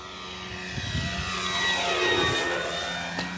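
An E-flite Carbon Z radio-controlled plane flies overhead on a windy day. Its propeller drones steadily and swells in pitch and loudness as it passes nearby.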